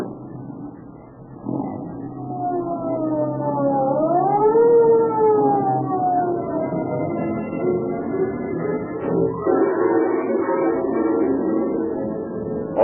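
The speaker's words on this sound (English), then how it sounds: "the police car starts its journey with sirens screaming" A police car siren wails loudly, rising and falling in long sweeping tones over an engine rumble, sustained for several seconds as the car sets off.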